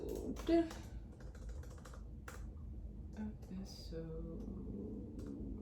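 Quiet clattering keystrokes on a computer keyboard come in short bursts, with a person speaking softly over the typing.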